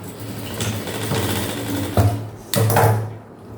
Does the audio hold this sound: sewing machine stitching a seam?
yes